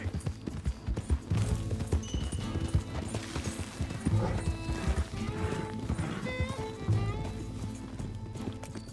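Horse hooves clop in a quick, steady galloping rhythm during riding in the video game Red Dead Redemption, close and continuous with occasional neighs and game sound around them.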